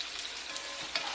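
Meat frying in a pot with garlic cloves, bay leaves and onion makes a brief, even sizzle, dense and close, with a small bump near the end.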